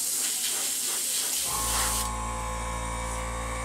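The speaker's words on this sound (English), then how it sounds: "I'm spraying it on a sample piece of plastic here just to make sure that there's enough coloration difference in it." An airbrush sprays paint onto a sample piece of plastic as a steady, close, airy hiss that changes tone partway through and continues without any talking.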